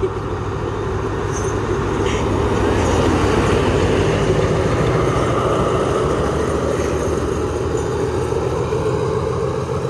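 Rapid train no. 112 rushes past Chiang Rak station in Thailand as a loud, steady roar with faint rhythmic wheel clatter, held at constant close range for the whole stretch.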